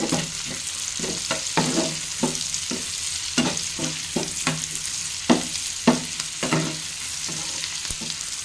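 Tomato and onion frying in a pan with a green chilli, a close steady sizzle broken by regular scraping and knocking strokes of a spoon stirring.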